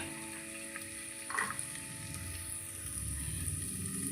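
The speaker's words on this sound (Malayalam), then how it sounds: "ഇത് നമുക്ക് 1 മിനിറ്റ് ഒന്ന് വഴറ്റി കൊടുക്കാം" Sliced ginger and halved garlic cloves, then green chillies, sautéing in a pan for a Kerala-style chicken stew, giving a steady low frying sizzle with a brief clink partway through, no talking.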